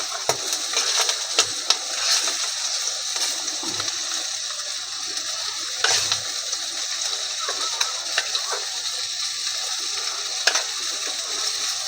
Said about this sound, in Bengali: দেখো ডিমটা ভাজা হয়ে গেছে